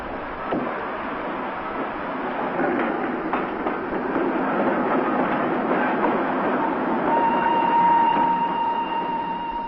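A passenger train at Milan station rumbles along with a steady, fairly loud roll and faint rail clicks, joined later by a sustained high tone.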